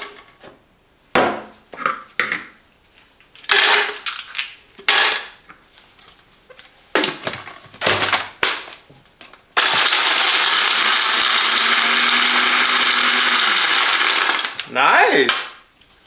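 A Silvercrest 600W blender, model SSMKH 600 A1, crushing ice. It opens with several sharp, loud clattering bursts and knocks, then settles into a continuous loud whirring grind for about five seconds before cutting off.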